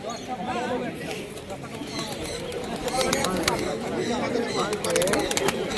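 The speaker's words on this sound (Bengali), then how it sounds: "আজকে পায়রার কালেকশন অনেক এসছে বিনগর হাটে" Pigeons coo amid the busy bustle of a crowded pigeon market at Birnagar, with steady crowd chatter and voices close by throughout.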